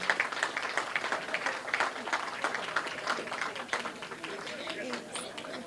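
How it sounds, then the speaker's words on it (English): A crowd claps in a steady patter of applause, fairly close and continuous, easing off slightly toward the end. "So let's give him a round of applause."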